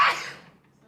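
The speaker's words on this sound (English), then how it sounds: "I gotta sneeze." A single sharp sneeze from a man, loud and close, bursting out at once and then trailing off into a quiet breathy tail.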